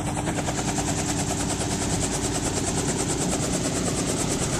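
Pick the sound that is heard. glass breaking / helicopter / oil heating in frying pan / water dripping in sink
helicopter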